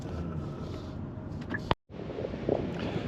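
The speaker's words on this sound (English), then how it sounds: "It's really windy here" Steady, rumbling wind buffeting the microphone outdoors, broken by a sharp thump and a brief dropout before the gusting resumes.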